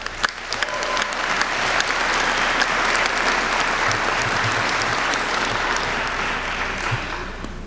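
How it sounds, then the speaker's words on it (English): A graduating class and crowd at a 2024 commencement ceremony burst into loud, dense applause that stays strong throughout and eases slightly near the end. Faint voices mix in with the clapping. "Give yourselves a huge round of applause."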